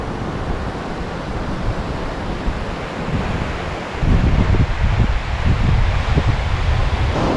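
Surf washing onto the beach at Bear Island in Hammocks Beach State Park on an overcast day: a steady, loud roar of waves mixed with wind buffeting the microphone, swelling stronger partway through.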